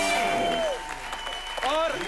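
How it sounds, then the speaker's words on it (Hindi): Loud audience applause at a live comedy show, a steady roar of clapping that runs throughout, with a host's voice speaking over it. "लिए जोरदार तालियां हो जाए।"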